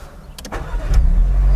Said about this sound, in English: fire up the car